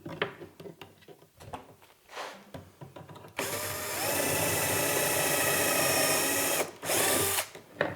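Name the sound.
drilling with a larger drill bit through a jig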